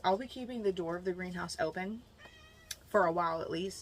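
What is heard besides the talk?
cat crying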